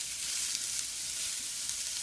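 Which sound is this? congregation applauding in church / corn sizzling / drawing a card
corn sizzling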